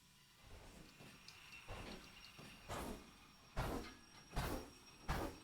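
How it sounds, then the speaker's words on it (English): Steam locomotive brakes bleeding air in Derail Valley, a series of repeated hissing bursts that grow louder and more distinct over the span, each a short rushing puff over a low rumble. "Accidentally been bleeding brakes this whole time."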